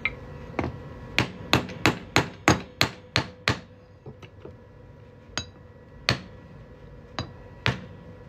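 A hammer strikes a 3/8 inch steel punch driven into a penny coin ring, a fast run of sharp ringing metallic blows followed by slower, spaced taps, close and loud.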